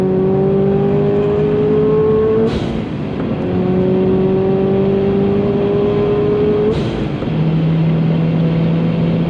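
A Subaru BRZ pushed hard around a race track, its engine note climbing steadily through the gears with two sharp upshifts breaking the rising whine, loud and close from inside the car with no talking.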